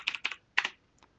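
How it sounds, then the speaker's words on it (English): A password typed on a computer keyboard: three quick bursts of crisp key clicks, close and fairly quiet, followed by one faint final keystroke. "you're gonna go ahead and type in your password"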